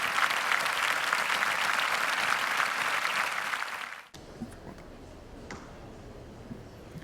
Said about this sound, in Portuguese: Uma salva de palmas, meu amigo.